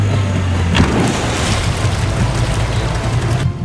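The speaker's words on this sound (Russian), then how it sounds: "На водомете пойдем сейчас." A small boat on the Ob River runs on a water-jet motor, a loud continuous engine drone mixed with rushing water and wind noise that holds steady throughout.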